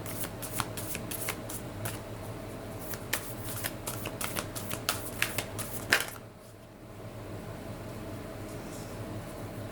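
Spirit animal oracle cards are shuffled in quick bursts of crisp riffling snaps for about six seconds, then stop, leaving quiet room tone.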